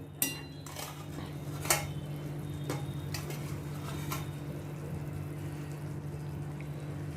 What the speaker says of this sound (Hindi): अभी इसमें ये मैं बैंगन के ये पीसेस डालती हूँ।